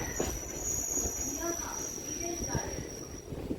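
A suburban train runs along the Ganges bank near Babughat in Kolkata, heard from on board as a steady rumbling clatter with thin, high wheel squeals and faint voices underneath.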